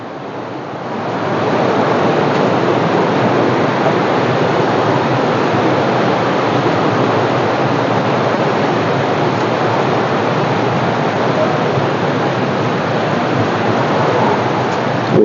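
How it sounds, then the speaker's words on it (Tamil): A steady, loud roar of rushing water fills the scene without a break, a dense wash of white noise from the nearby Athirappilly waterfall in Kerala. "அருவியோட சவுண்டு, ஃபால்ஸோட சவுண்டு."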